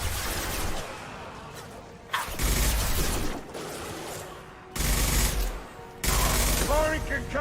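Bursts of sci-fi gunfire and a concussive shot in Mass Effect Legendary Edition, loud blasts in separate blocks with metallic crashes and ringing tones, while voices speak in between.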